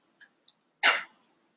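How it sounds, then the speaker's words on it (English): A single short, sharp cough bursts out indoors, loud and close, followed by silence, with a couple of faint ticks just before it. "That was a cough, not a question."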